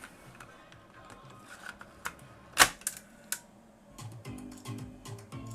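A cassette tape is pushed into an Alpine 7273L car stereo, producing a few close plastic clicks and one sharp clack midway, followed by faint mechanical rattling.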